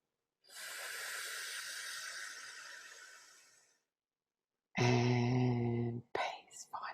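A long, slow deep breath drawn in with an airy hiss, held in silence, then released in a voiced exhale followed by a few softer breathy sounds, close and quiet as part of a guided tapping relaxation exercise.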